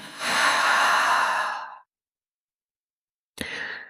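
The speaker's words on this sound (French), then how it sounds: "prendre une dernière profonde inspiration par le nez. Profonde expire par la bouche." A deep exhale through the mouth during a yin yoga session, a long, airy breathy rush lasting over a second, then a pause of silence and a shorter breath.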